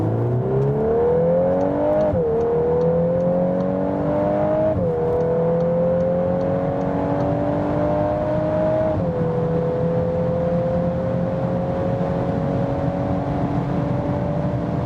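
A 2021 VW Golf R accelerating hard toward 200 km/h, engine note rising steadily through the gears with brief dips at each shift, loud and continuous from inside the car.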